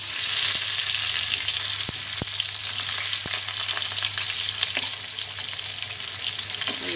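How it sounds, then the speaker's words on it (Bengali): Boiled chital fish balls frying in hot oil in a frying pan, a steady, dense sizzle with crackling spits and a few sharp clinks, close and continuous throughout. "তেলটা গরম হয়ে গেছে, আমি এবার একে একে সব ভেজে নেবো"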